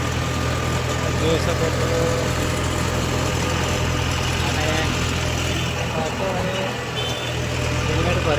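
A tractor loaded with cement idles by a river with a steady, low, droning engine hum that never lets up, while someone talks over it.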